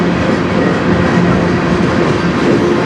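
A CN freight train rolls past on the Strathroy Subdivision in Sarnia, Ontario, a loud, close, steady rumble of wheels and cars without a break.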